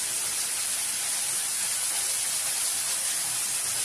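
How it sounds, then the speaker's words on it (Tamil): Tomatoes sautéing in a pan, a dense, steady sizzling hiss that stays loud and unbroken throughout, with no voices. "தக்காளி வந்து நல்லா வதங்கணும்."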